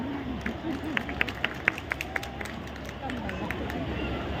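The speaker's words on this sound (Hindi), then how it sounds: "यहाँ पे जितने यूथ है ताली बजा दीजिए" Scattered audience claps ring out over steady crowd noise at a festival in Balrampur, most in a short burst in the first half before the crowd murmur carries on alone.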